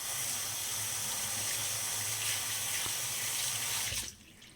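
A tap runs steadily as LaFune face cleansing gel is rinsed off the face, a close, even splashing flow that stops abruptly near the end.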